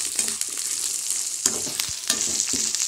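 Dal, onion, ginger, garlic, mint, coriander, curry leaves and dried red chillies fry in hot oil for a South Indian dal chutney, giving a steady close sizzle with a few sharp scraping stirs of a spoon in the pan.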